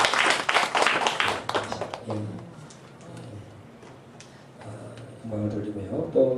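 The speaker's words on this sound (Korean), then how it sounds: "인사하면 우리 박수로 한번 또 환영하겠습니다." A church congregation bursts into applause to welcome a returning member, a dense burst of clapping for about two seconds, after which someone speaks over a quiet hall.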